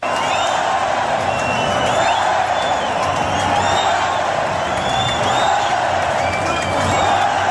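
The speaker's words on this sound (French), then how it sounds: "Les cris, c'est quand dans la brasse, tout d'un coup, il monte." A capacity crowd of 15,000 spectators at Défense Arena roars continuously during an Olympic 400 m individual medley swim, a dense, loud wall of cheering and whooping that swells each time the swimmer surfaces in the breaststroke.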